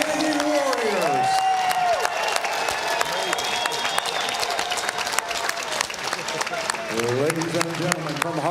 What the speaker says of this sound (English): let's have a great round of applause for 2 outstanding warriors